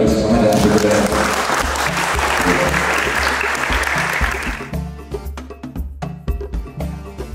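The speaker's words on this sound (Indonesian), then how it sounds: "Mungkin tepuk tangan dulu supaya lebih semangat dan lebih berdaya." Applause from villagers at a community welcome event in Wae Rebo, Nusa Tenggara, Indonesia: dense clapping for several seconds fades into rhythmic percussive knocks and thumps, with voices nearby.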